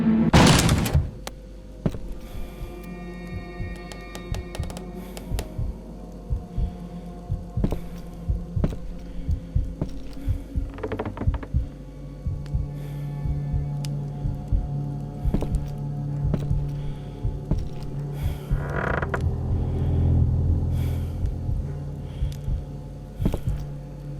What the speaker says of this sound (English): The black robed one bangs on the door and breaks it open